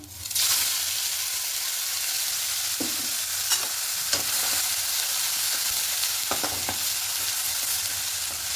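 Onion paste frying in hot oil with whole garam masala, cumin and dried red chillies for an egg curry, a loud steady sizzle from the moment it hits the pan, with occasional stirring scrapes.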